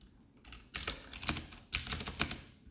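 Numbers typed on a computer keyboard in two quick bursts of close, crisp key clicks, separated by a brief pause, with no talking.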